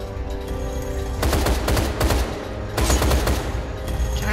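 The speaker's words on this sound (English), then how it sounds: "I am going to shoot all of you" Bursts of rapid automatic gunfire from the video game Deadfall Adventures come in two loud volleys, each lasting around a second, over a low steady game background hum.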